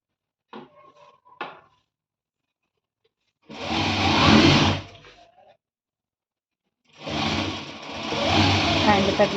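A sewing machine stitches velvet blouse fabric in two close, loud bursts of rapid mechanical running, separated by a silent pause, after faint handling clicks at the start.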